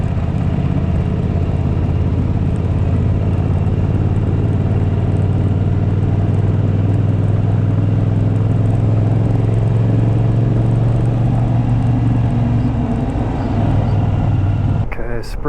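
Cars passing on a road near Spray Lakes West Campground in Alberta, with a steady low engine and tyre rumble that builds and holds. Someone speaks over it throughout.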